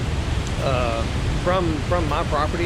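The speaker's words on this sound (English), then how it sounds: "This is all the runoff. I don't know if you can hear it, and it's a lot of water." Rain runoff from the night before rushes down a valley creek on a frozen, wet farm, a steady broad wash of flowing water heard under someone talking.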